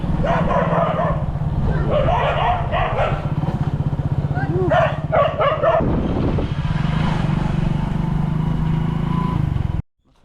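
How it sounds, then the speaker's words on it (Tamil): On a road through a Kerala village, a dog chases behind and barks and yips repeatedly, close and loud over the steady drone of a motorcycle engine, with voices also present. "ஆன்ட்டி வேறு நாய் துரத்துறாங்களே."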